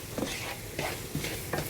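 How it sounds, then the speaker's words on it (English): Shrimp étouffée stirred in a pot over the heat, a soft continuous simmering sizzle broken by repeated scraping strokes of a spoon roughly every third of a second, close and without talk. "I'm gonna pause, give a stir"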